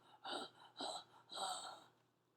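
A voice imitates a monster's panting with three loud, breathy, rasping gasps close up, each swelling and fading in a slow rhythm.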